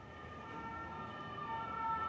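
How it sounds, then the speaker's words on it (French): A fire engine or ambulance siren passes along a street, its steady wailing tones holding from start to finish, rising slightly louder toward the end over a background of road traffic noise. "On va laisser les pompiers passer."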